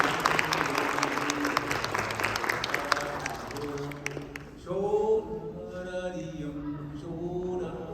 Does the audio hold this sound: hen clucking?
no